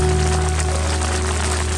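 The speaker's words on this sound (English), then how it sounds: "It doesn't seem like this rain's gonna let up anytime soon. In fact, I think it's getting stronger." Heavy rain pours down on a mountain campsite, a dense, continuous hiss close by with a low steady hum beneath it and no voices.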